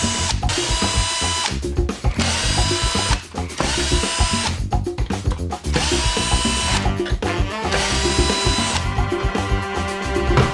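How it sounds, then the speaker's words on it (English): A power drill drives four screws into mounting holes on a Losi DBXL-E 2.0 off-road RC car, a loud, continuous whirring whine broken by brief pauses between screws. "We'll go ahead and put 4 screws in the 4 mounting holes"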